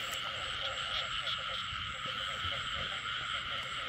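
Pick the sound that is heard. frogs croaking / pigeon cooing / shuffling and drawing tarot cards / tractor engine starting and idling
frogs croaking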